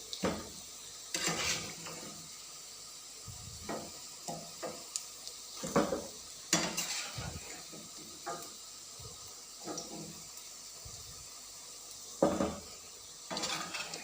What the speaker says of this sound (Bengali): আলুগুলো ভাজতে অনেক সময় লাগবে